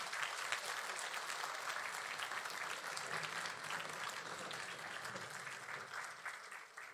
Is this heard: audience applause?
yes